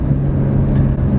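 A 2020 Porsche 911 of the 992 generation runs with its sport exhaust mode on, giving a steady, loud engine drone with a strong low hum that carries unbroken throughout.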